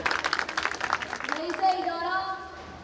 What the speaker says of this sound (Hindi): आपकी भरपूर तालियों में अली हसनैन।